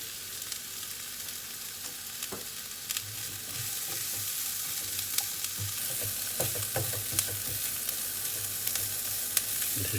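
Leftover meat pieces fry in a pan with softened onions, giving a constant close sizzle dotted with small pops and the odd stir.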